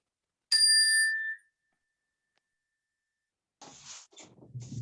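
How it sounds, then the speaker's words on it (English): A single bright metallic chime struck once, ringing clearly and fading over about a second, followed by silence and then faint voices talking at a distance on an online call. "I'm going to hit the chime"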